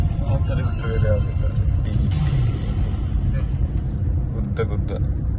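Lorries rumbling past on an otherwise empty road near Sullia, a continuous heavy engine drone close by with someone talking over it.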